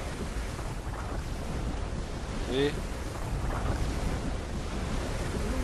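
Rushing water in the video game Uncharted 2, a steady broadband wash like surf or a torrent running throughout, fairly loud, with a brief spoken word partway through.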